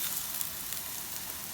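Garnish for a leek, mushroom and pea risotto frying in a pan, giving a steady close hiss of sizzling that stays even throughout, with no speech.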